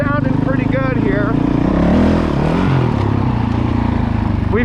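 A Honda CRF450L with a Yoshimura RS4 quiet exhaust idles and runs steadily, a low throbbing engine note with a brief rise in revs, close by, while someone talks over it.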